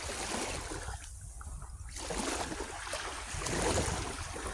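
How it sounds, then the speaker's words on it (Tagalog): Sea waves wash onto a beach in a continuous broadband rush, steady and fairly close, swelling slightly toward the end with no voices. "Ayan na guys, ito tayo sa dagat."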